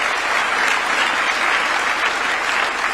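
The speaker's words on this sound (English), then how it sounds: "A round of applause for the main speaker of this meeting." A hall full of people at a student awards ceremony at State House in Kenya breaks into sustained, even applause for the main speaker, with a dense wash of clapping and no talking above it.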